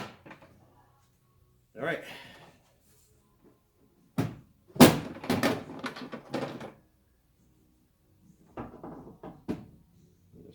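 Under-cover swing case tool box for a pickup truck slammed into place, with a sharp bang, a short rattling clatter and a few lighter knocks, alongside brief speech.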